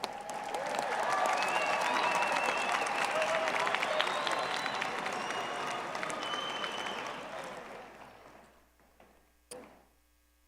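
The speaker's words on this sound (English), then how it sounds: "And one more round of applause for all of the graduates." A large audience claps for graduates at a university graduate college commencement, a full steady wash of applause that gradually thins and fades out near the end, leaving a few last isolated claps.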